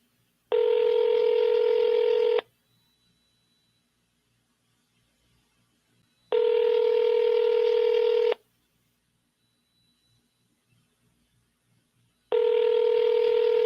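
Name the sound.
telephone call dialing and ringing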